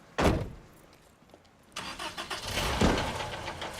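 A car engine cranks with a sharp first burst, falls quiet, then catches and runs with a second cranking surge, settling into a close, steady idle.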